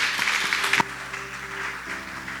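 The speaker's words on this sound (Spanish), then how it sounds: "fuerte aplauso al Señor" Applause from a church congregation praising the Lord, a burst of clapping that peaks early and then fades to a softer, scattered patter, with a low organ or keyboard tone sustained beneath it.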